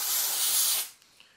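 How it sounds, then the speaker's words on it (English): A single short burst of aerosol motor cleaner spray on 1:10 RC ball diff parts, a loud close hiss lasting under a second before cutting off to near silence. "The biggest thing that I do first is I get some motor spray"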